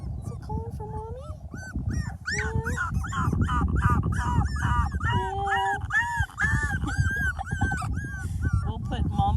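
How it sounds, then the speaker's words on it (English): Several young puppies, a litter about four to five weeks old, howl and whimper for their mother in rising, wavering cries, close and loud, while someone talks softly over them. "those 3 girls are really calling for mom today"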